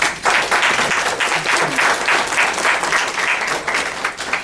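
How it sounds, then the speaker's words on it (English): A room of people applauds the chair, Dee Dawkins-Hagler, at a Georgia legislative hearing on the HIV epidemic: dense, steady clapping that holds evenly for several seconds. "I want to give her a round of applause"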